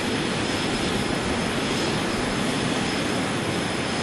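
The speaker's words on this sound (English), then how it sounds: "Release the brakes by pressing the period key and apply some thrust to get us going." Jet aircraft engine thrust in a flight simulator game, a steady, loud, broadband roar holding constant throughout without talk.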